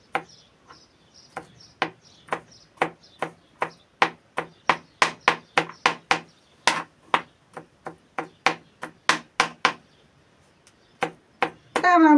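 A knife chops garlic cloves into small pieces on a cutting board, giving a steady series of sharp, close, distinct taps that speed up toward the end.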